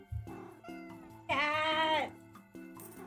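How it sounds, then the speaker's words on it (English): A cartoon cat meows in the video game Minami Lane, one clear drawn-out meow in the middle over soft game music chimes. "Cat. Cat."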